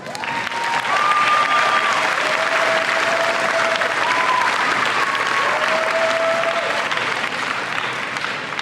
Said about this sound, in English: please help me give your families and educators a round of applause